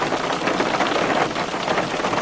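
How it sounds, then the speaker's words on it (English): Heavy rain pouring during a storm, a dense, steady hiss of drops close by, loud and unbroken throughout with no talking. "There's a bunch of heavy rain, folks. Heavy, heavy rain."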